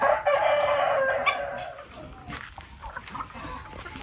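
Chickens on a small egg-laying farm cluck and crow close by, loud and continuous with no one speaking.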